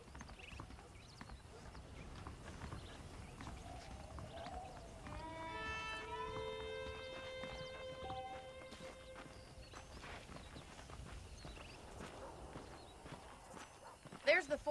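Faint horse hooves clop along in a steady rhythm beneath a quiet background in the video game Red Dead Redemption, with a brief musical tone sounding in the middle.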